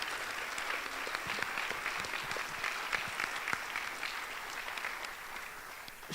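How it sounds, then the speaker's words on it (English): An audience applauds after a student play: steady, fairly distant clapping from a sizeable crowd, continuous and even with scattered sharper claps standing out. "huge round of applause to everyone who made the show possible and everyone who came out to see it"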